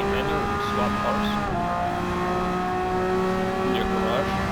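The Subaru WRX Gr.B Road Car in Gran Turismo 7 hums steadily at moderate volume, its engine tone shifting slightly as it drives, with a voice talking over it throughout.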